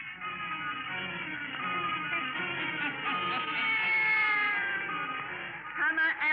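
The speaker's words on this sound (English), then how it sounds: "And now let us join old Nancy and Satan, her wise black cat." A black cat meows in an old radio drama, one long drawn-out wailing meow, fairly loud, with a short vocal sound at the end.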